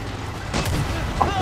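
Booming Far Cry 6 missile explosions burst over continuous noisy background, with a broadband blast around the midpoint and a sharp hit near the end.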